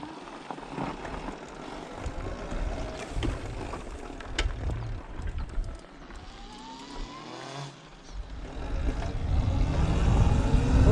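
Nicote Chinese electric motorcycle riding downhill, a steady whirring motor drone mixed with rushing wind noise that swells toward the end, continuous and fairly close with no talking.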